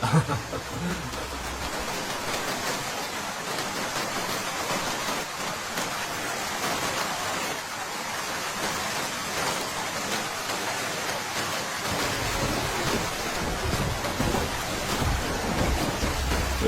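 Cartoon rain scene: a heavy, steady downpour hisses close and loud throughout, with low thunder rumble rolling underneath in the opening and closing seconds.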